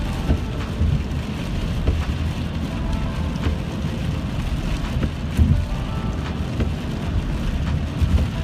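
Rain and wet snow falling around a car on a road trip, heard as a steady broadband wash with road and wind rumble underneath, a few louder patters and bumps, no voices.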